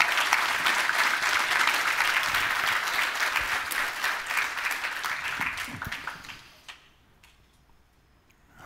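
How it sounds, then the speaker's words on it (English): A large audience at a talk on the music of Uncharted 4 claps in a dense, sustained burst of applause that fades out over several seconds into near silence. "So please give me a big round of applause."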